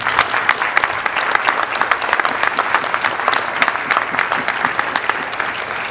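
A graduation audience at Santa Rita High School applauds for the families in a dense, steady burst of clapping from many hands that continues without a break.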